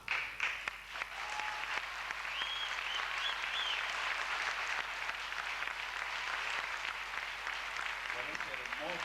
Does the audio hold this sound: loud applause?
yes